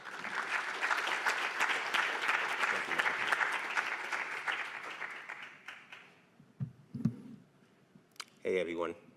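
A conference audience applauds to welcome a patient advocate and tech entrepreneur to the keynote podium, dense clapping that fades after about six seconds, followed by a few scattered sounds and a brief voice.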